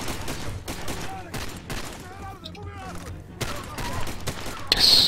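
Gunfire in the video game Far Cry 2, repeated loud shots in ragged volleys throughout, dense and close, with a brief lull in the middle.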